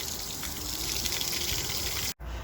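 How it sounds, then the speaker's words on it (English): Water rushes steadily through a garden hose fed from a newly installed SharkBite hose bib in a garage, a loud continuous hissing gush that cuts out for a split second near the end. "I hear the hose filling up. And we have water coming out."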